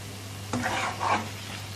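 Raw chicken is briefly stirred and mixed with black pepper, turmeric, green chili paste and other spices, giving a short, close wet scraping swish over a low steady hum.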